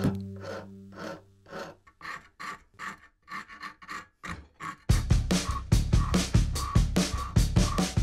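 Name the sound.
rasp deburring wood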